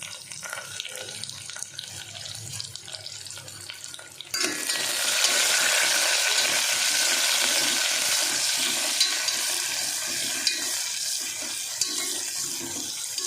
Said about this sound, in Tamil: இப்போ இது நல்லா வதங்குற வரைக்கும் நல்லா நம்ம கரண்டியை வச்சு ஃப்ரை பண்ணலாம்.